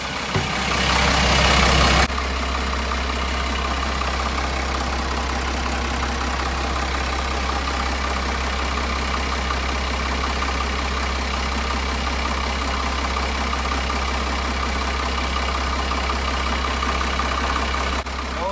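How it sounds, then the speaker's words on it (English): A boat engine idles loudly and steadily in the boat's engine room, a constant low droning rumble after a brief louder burst at the start. "Just going upstairs here to start the boat so Derek can check for leaks"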